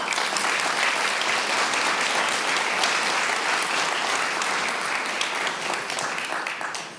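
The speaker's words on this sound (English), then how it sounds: "let's just give her another round of applause" Dense audience applause at a business summit, a steady wash of many hands clapping that holds loud for about seven seconds before easing slightly at the end.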